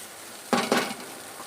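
Potatoes for sabudana khichdi get stir-fried in a pan, two short scraping, clinking stirs close by, with quiet around them and no talk.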